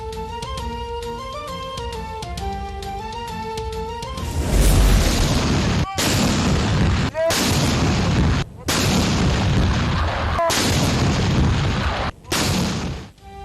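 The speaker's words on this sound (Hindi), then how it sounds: "इस्लामाबाद में 31, सूबों में 21 तोपों की सलामी" Artillery guns firing an Independence Day salute in Pakistan, 31 rounds in Islamabad and 21 in the provinces: a series of heavy booms at regular intervals that follows a few seconds of band music.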